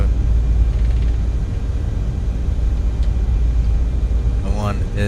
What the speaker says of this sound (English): We're gonna do a rolling takeoff here, so we'll blast the lights for everyone.